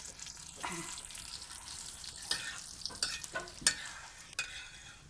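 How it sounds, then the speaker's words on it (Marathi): Coriander seeds dry-roast in a pan over a wood-fired village stove, with a faint crackle under scattered scrapes and taps as a spoon stirs them. "आता धन टाके दे अशा पद्धतीने आपण धन पण चांगलं भाजून घेऊया"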